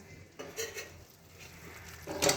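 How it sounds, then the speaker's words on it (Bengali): A lid lifted off a pot of spinach ghonto, with a soft metallic clink and a later louder clatter of the lid, close and quiet amid faint kitchen noise. "5 মিনিট পরে আমি ঢাকাটা খুলছি"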